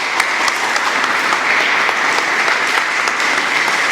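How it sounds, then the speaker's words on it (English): A seminar audience claps to welcome a speaker, a dense continuous wash of many hands, loud and steady from start to finish with no talking over it. "So let us welcome Mr. Mashaya with a clap of hands."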